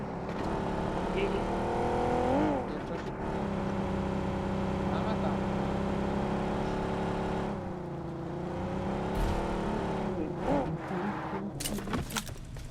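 A vehicle driving in the BGMI video game, a steady engine hum with rising and falling revs and occasional gear shifts, under sporadic talk from players.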